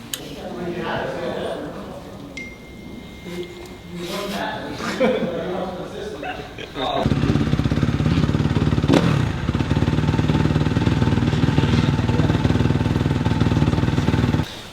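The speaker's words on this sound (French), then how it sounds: "Alors regardez, la moto vibre" A supercross motorcycle engine idles with a rough, vibrating rumble that grows louder and steadier halfway through, while someone talks over it.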